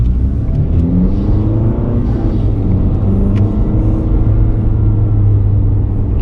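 Car with a throttle controller fitted, accelerating hard in sport mode: a loud, steady engine rumble and whir rising in pitch throughout, close and continuous, with no talk over it.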